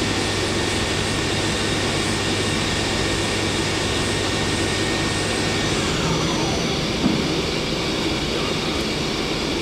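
A Hardinge SR 150MSY multi-axis CNC turning center with its spindle running at 3000 RPM, producing a loud, steady broadband whir and hum that holds constant throughout with a faint tonal whine.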